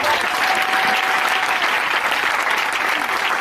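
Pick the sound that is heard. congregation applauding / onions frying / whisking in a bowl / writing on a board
congregation applauding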